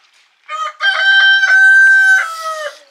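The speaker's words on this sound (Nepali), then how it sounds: "कुखुरा पनि कराउँदैछ है गाउँघर यस्तै हो" A village rooster crows once, loud and near: a short rising opening note, then a long sustained call that trails off at the end.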